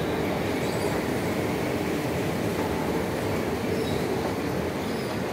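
A Jakarta MRT train runs steadily, its dense rumble and rail roar filling the space close and loud throughout, with faint wheel squeal above and no voices.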